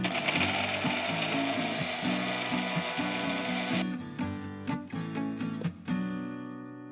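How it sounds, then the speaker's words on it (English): An electric spice grinder whirs loudly, pulsing as it grinds green cardamom, cloves and cinnamon sticks to powder, its steady motor drone breaking into short bursts before stopping. "We'll grind this to a fine powder."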